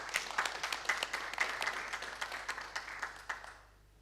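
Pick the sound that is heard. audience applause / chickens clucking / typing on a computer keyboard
audience applause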